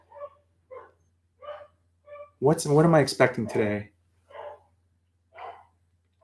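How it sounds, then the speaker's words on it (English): A dog barks excitedly at a package delivery, a string of evenly spaced barks in the background while someone talks over them partway through. "The dog's going ape shiz."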